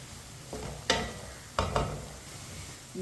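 Garlic frying in a pan with a spoon stirring it, soft sizzling under a few sharp scrapes and clinks of the spoon against the metal, quiet and close, with no talk.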